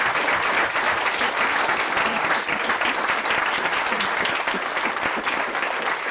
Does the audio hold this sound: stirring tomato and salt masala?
no